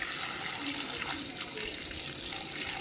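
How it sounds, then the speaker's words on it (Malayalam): Water pours steadily into a pot of chopped tapioca, a soft continuous splashing gush at low level with no break, close by and without talk. "നമുക്ക് വെള്ളം ഒഴിച്ചു കൊടുക്കാം അതിലേക്ക്"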